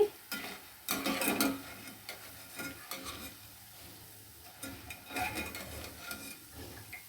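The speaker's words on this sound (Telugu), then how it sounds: "లైట్ బ్రౌనిష్ వచ్చినంత వరకు వేయించుకోరండి" Boondi for laddu frying in hot oil until light brown, a soft steady sizzle with bursts of stirring and a ladle scraping the pan, fairly quiet and close.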